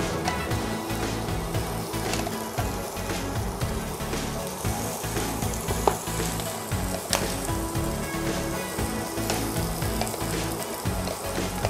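Steady, dense sizzling of ground spice paste frying in hot oil, continuous and close, with occasional light clinks and stirring scrapes; no voices.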